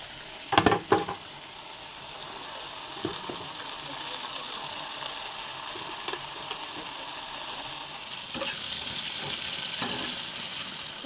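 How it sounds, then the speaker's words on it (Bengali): Onion fritters (peyaji) fry in hot oil with a steady hiss, broken by a few sharp clattering knocks early on and scattered light taps later. "তো তার জন্য একটু পেঁয়াজি ভেজে দিচ্ছি ছেলের জন্য"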